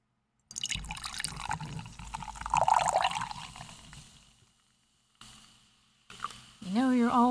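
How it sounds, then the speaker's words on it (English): A can cracks open and liquid pours into a cup with a gurgling, fizzing trickle that gradually tapers off. A voice speaks briefly near the end. "the sound of can opening and then the liquid pouring into the cup"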